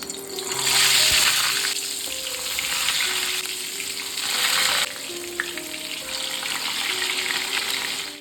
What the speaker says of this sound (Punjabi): ਤਾਂ ਹੁਣ ਆਪਾਂ ਕਰੇਲਿਆਂ ਨੂੰ ਕਰਦੇ ਆ ਫਰਾਈ। ਤਾਂ ਕਰੇਲੇ ਜਿਹੜੇ ਆਪਾਂ ਧਿਆਨ ਦੇ ਨਾਲ ਛੱਡਣੇ ਤੇਲ ਦੇ ਵਿੱਚ।